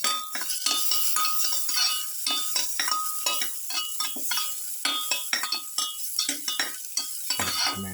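Tomato pieces go into a pan and get stirred with a utensil for a pepper shrimp potato bowl, producing repeated clinks and scrapes against the pan over a soft sizzle, close and clear.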